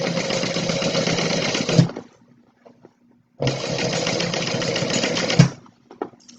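A sewing machine runs in two steady bursts of about two seconds each, stitching the side seam of a fabric tote bag, loud and close with a short pause between runs and no talk.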